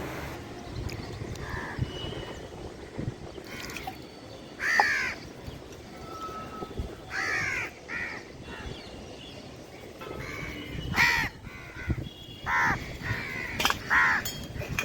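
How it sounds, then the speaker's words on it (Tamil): Crows caw repeatedly outdoors while being fed, in scattered harsh calls that come in bursts of two or three. Some calls are close and loud, others further off, over a constant rustling background. "நல்லா மிக்ஸ் பண்ணி கொண்டு போய் காக்கையர்களுக்கு போட்டு விட்டு வருவோம்."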